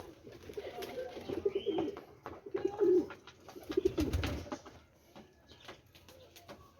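A racing pigeon arriving at its loft in Rawalpindi coos in repeated low throaty phrases, close by, over faint background noise and scattered clicks.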